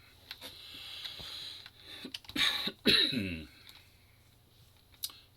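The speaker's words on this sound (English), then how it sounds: "I have developed just a bit of a cough here in the last day or two" A few sharp coughs burst out close by in the middle, with faint clicks and rustling before and after.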